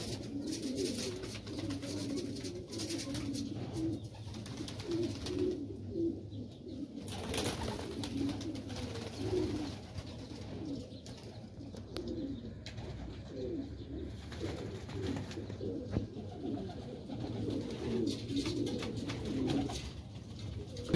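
Pigeons picking at leftover grain coo steadily and softly, a continuous low murmuring from several birds close by, with occasional flutters and light rustles throughout.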